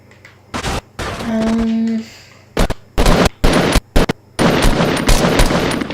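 Bursts of rapid gunfire from a battle-royale shooter game, several loud volleys and single cracks spread across the moment with short gaps between them, alongside a brief tonal game sound and people talking.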